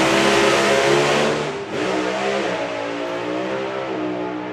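A supercharged doorslammer drag car launches hard down the strip, a loud roaring engine with a dense harmonic whine that dips briefly at a shift, then keeps pulling strongly.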